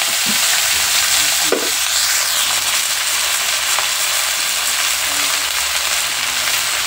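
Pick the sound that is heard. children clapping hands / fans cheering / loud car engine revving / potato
potato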